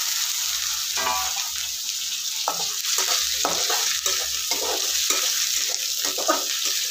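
Chopped tomato is added to onions frying in a pan for chicken sukka, giving a bright continuous sizzle with irregular spoon scrapes and stirring knocks nearby, and no voices.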